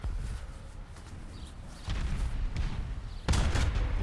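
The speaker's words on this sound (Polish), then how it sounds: "Jeszcze jeden strzał, następne uszkodzenia" Tank cannon fire in War Thunder on a Tunisia map, aimed at a Leopard 1: two heavy booms a little over a second apart, the second louder, over low rumbling battle noise.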